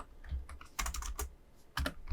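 Someone types a short command on a computer keyboard in quiet surroundings: a few soft clicks, then two quick bursts of keystrokes with brief pauses between them.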